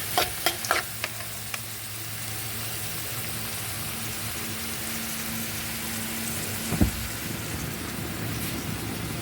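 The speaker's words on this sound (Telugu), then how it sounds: "ఆనియన్స్ తెల్లగడ్డలు కరివేపాకండి ఈ మూడు ఒకేసారి వేయాలి" Onions, garlic and curry leaves fry together in a pan for a bitter gourd fry. A few sharp spatters and a stirring clank stand over a steady soft sizzle, close and without talking.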